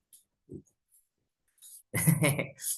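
A person coughs once briefly, then a longer rough cough or throat-clearing follows near the end, close and fairly loud against a silent room during an Indonesian talk about stocks.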